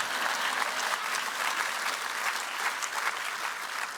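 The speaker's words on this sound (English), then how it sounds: "You can clap. Go on." Audience applause at a First Nations institute launch, an even, dense wash of many hands clapping steadily from start to finish, fairly quiet and without voices over it.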